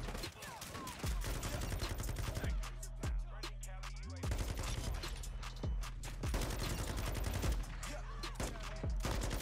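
Light machine gun fire in the video game Modern Warfare 2: loud, dense rapid bursts of automatic shots that run almost nonstop, with one brief lull partway through.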